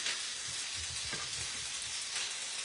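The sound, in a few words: steak sizzling while cooking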